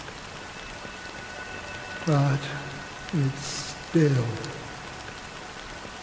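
Steady rain falls in the game Honkai Star Rail, a soft continuous hiss that runs throughout beneath a few short spoken lines.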